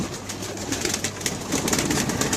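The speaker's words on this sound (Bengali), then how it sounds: "এই যে কবুতরগুলো দেখেন মানে পাগল হয়ে গোসল করতেছে কবুতরগুলা" Pigeons splash vigorously in a bucket's worth of water poured out for their bath, throwing off a continuous run of close, choppy wet flutters and bursts.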